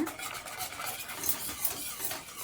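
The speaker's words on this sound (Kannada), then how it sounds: "ಇವಾಗ ಚೆನ್ನಾಗಿ ಮತ್ತೆ ಮಿಕ್ಸ್ ಮಾಡ್ಕೊಳ್ಳೋಣ" Muskmelon ice cream mixture being stirred in a bowl, a soft, steady swishing and scraping with faint rhythmic pulses, quiet and close with no talk.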